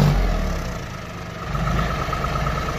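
A tractor engine runs steadily in two-wheel drive mode as the tractor struggles to move properly, a continuous close, loud mid-low rumble with a slight swell in the second half.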